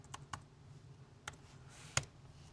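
Several quiet, scattered keystrokes tap on a computer keyboard while a web address is typed into a browser, sparse clicks with short pauses and no talking.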